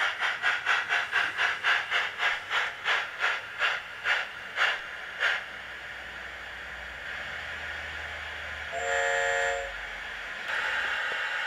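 Sound unit in a radio-controlled 7mm-scale HO Mudhen model locomotive coming to a halt, a rhythmic steam chuffing that slows and fades, then a short whistle toot and a steady hiss, close and moderately loud with no talk.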